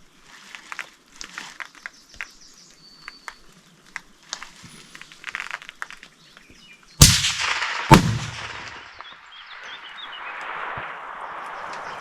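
Two sharp, loud gunshots at shooting practice crack about a second apart, echoing and fading across open ground after quieter rustling and faint ticking sounds.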